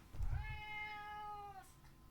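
A cat meows once, a drawn-out, close and clear cry lasting over a second, with a soft low rustle just before it and no talk.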